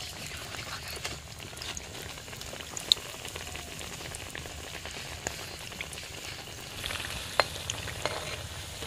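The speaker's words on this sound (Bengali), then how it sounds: "এই দেখো কি লাল লাল করে ভেজে নিচ্ছি। একদম লাল করে ভেজে নিতে হবে এই বেগুনিটি।" Eggplant fritters (beguni) fry in hot oil with a steady, quiet crackling sizzle and a few sharper pops scattered through.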